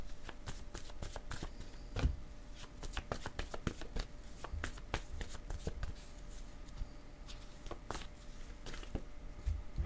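A deck of cards is shuffled close by in a quiet room, with rapid, continuous flicking riffles and a few soft taps throughout.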